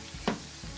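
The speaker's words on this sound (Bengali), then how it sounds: "নিমকিগুলো তেলে ভাজা হয়ে গেছে, দেখুন কীরকম লাল কালার হয়েছে।" Nimki dough pieces fry in hot oil, a soft steady sizzle with a brief clatter of a utensil stirring near the middle, close and quiet, no voices.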